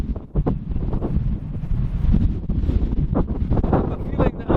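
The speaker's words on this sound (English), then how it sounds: "I think it's going to be too windy" Strong gusty wind buffets the microphone in a continuous low rumble, rising and falling throughout, with faint rustling underneath.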